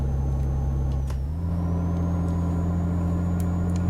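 A heavy truck engine in Euro Truck Simulator 2 labors uphill at steady low revs under a 10-ton load, droning loudly and continuously, with a brief shift in pitch early on.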